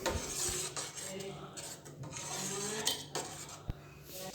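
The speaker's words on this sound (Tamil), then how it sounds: "லைட்டாக நம்ம மிக்ஸ் பண்ணிக்கலாம்." A metal spoon stirs palm sugar into a betel leaf decoction in a pot, producing light scraping and clinking against the vessel with a few sharper taps, close and fairly quiet.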